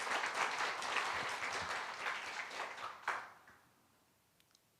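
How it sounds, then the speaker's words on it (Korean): A church congregation gives a warm round of applause during a Sunday worship service, a dense, fairly quiet patter of many hands lasting about three seconds before fading out. "동현 형제 일어나 주시면 박수로 환영하겠습니다"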